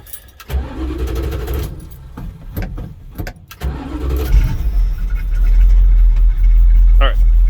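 A carbureted engine cranks and catches, then settles into a steady close idle that continues to the end, with someone talking over the cranking.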